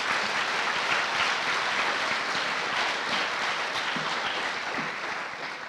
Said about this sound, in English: if we could get a huge round of applause for our board